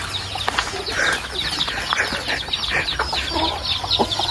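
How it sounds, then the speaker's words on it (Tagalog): Chickens cluck and chatter in a busy, overlapping flock at moderate distance, with scattered bird calls over a faint outdoor background. "Yan, daming manok"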